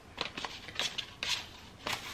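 A knife chops through an apple on a cutting board, sounding as a quick series of sharp, crisp cuts in an uneven rhythm, close by and fairly quiet, with no talking.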